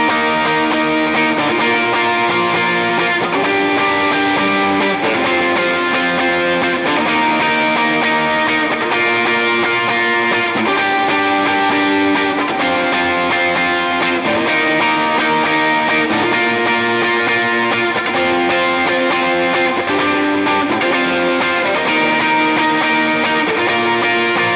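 Electric lead guitar plays the Amazing Grace chorus through heavy effects, distorted with chorus, sustained melodic notes ringing steadily and loud over a full backing for the whole stretch, with no talking.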